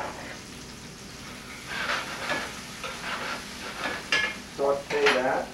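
Mushrooms sauté in a pan with a soft, continuous hiss that swells midway, joined by scraping and tapping of a utensil being stirred through them, plus a few brief squeaky tones toward the end.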